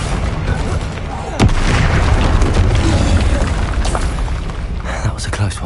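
Confringo and Bombarda spell explosions in the Hogwarts Legacy video game, loud booming blasts and bursts over continuous battle noise, with a player calling out over the action.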